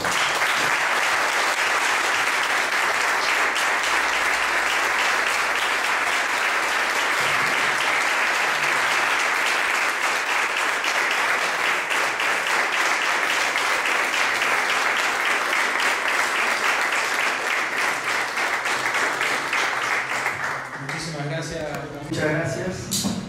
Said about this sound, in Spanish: así que un aplauso por él y por todos los compañeros